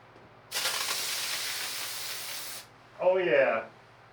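A DIY spray foam insulation kit sprays in a loud continuous hiss for about two seconds, then stops. A short spoken exclamation follows.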